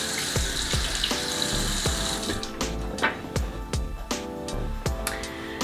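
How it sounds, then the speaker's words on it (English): Tap water runs steadily into a sink as a face is splashed and rinsed during a night skincare routine, with repeated short splashing bursts over the continuous flow, close and fairly loud. "now I just rinse that off"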